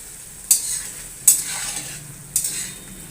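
Garlic-ginger paste sizzles steadily in a pan while a utensil scrapes through it in three sharp strokes, close and fairly loud.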